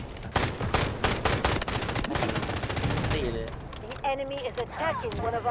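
Rapid bursts of gunfire crackle loudly in a dense, continuous volley, then give way to shouting voices and excited talk as the shots thin out.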